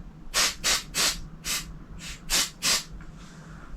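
Seven short hissing bursts of an aerosol spray can during retubing of a Marshall DSL20HR guitar amplifier, fired in a quick, uneven rhythm, close and fairly loud against a quiet background.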